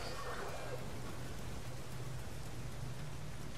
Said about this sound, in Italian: Ecco, tutta questa pioggia.